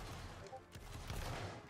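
A line of reenactment infantry fires a musket volley in a mock battle between Prussian and Confederation of the Rhine armies, a brief crackling burst of gunfire over outdoor noise and voices.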